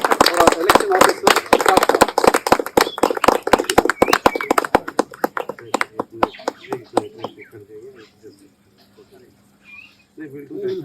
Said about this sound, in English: Okay, then we have a round of applause for this election officer.